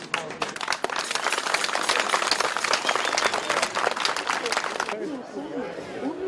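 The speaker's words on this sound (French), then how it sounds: "Ça s'applaudit." Audience applause fills a desert-school event in 2011 after a solar panel is offered as a gift, dense and loud for about five seconds before thinning out, while voices chatter under the fading claps.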